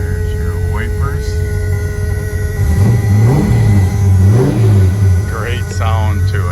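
A 1973 Plymouth Duster engine revs up and down twice in rising and falling sweeps over a steady idle, loud and close, with a few voices talking briefly.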